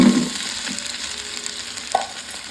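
Cubed potatoes and carrots dropped into hot oil in a pan for vegetable pulao, giving a brief burst of sizzling at the start that fades into a soft, steady frying hiss, with a small clink near the end.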